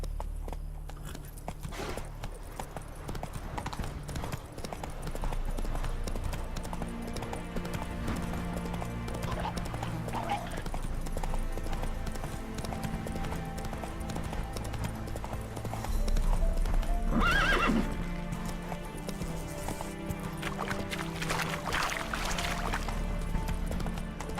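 Horse hooves clip-clop steadily at a gallop in The Witcher 3, with a neigh rising out of the hoofbeats midway, all over a continuous bed of game music and ambience.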